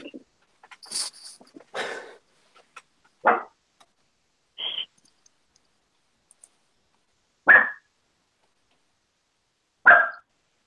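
A dog stuck and upset gives a handful of short, sharp whimpers and yelps, spaced several seconds apart in an otherwise quiet room.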